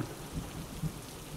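Steady heavy rainfall in a ghost-story sound effect, a dense continuous wash with low rumbling swells, quiet and unbroken with no voices.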